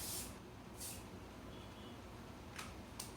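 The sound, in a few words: spraying TIGI hair product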